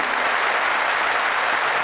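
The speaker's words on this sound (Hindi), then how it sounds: "आइए ताली बजाओ उन दानवीरों के लिए," An audience claps in a steady, dense burst of applause at a gathering, loud and continuous with no voices over it.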